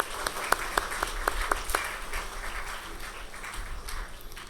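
Applause at a wedding reception, with a few sharp claps up close standing out over a softer, scattered crowd clapping that thins out over a few seconds.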